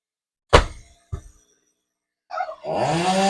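A chainsaw cutting a coconut palm tree: two sharp knocks, then after a pause the saw's engine starts and runs loud and close with a steady, buzzing roar.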